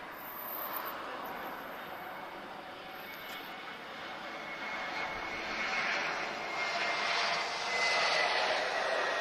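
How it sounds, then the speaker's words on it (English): A Swiss Airbus A321neo arriving at Lisbon Airport, a steady jet engine roar that grows gradually louder and nearer over several seconds, with no speech. "Lovely arrival, A321 there, Neo from Swiss."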